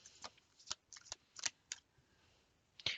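Tarot cards shuffled by hand in several quick riffling bursts separated by short pauses, close and fairly quiet, with a final louder flurry at the end.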